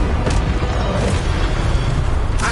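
A fire spell cast in Hogwarts Legacy bursts out as a loud, dense booming roar that fills the whole moment, with brighter flares near the start and at the end.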